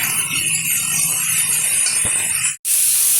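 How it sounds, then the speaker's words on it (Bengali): Vegetables for Bengali shukto stirred in hot oil in a pan, a steady broadband hiss and sizzle running close and loud throughout, with a brief clink near the end. "ভালোভাবে এবার একটু নেড়ে চেড়ে নেবো তেলের সাথে সবজিটা।"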